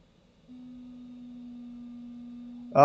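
A glider's variometer in flight sounds one steady, unwavering electronic tone that holds for over two seconds before a short, louder burst cuts in at the end.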